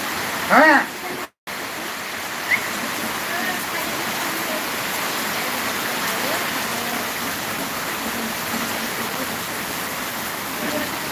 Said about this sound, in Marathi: मेरे गाँव की इधर देखो कितना जोर से बारिश चालू है